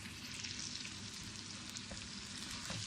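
Parboiled desi chicken frying in a pan with oil, giving a steady, even sizzle that runs throughout with faint stirring clicks and no voices.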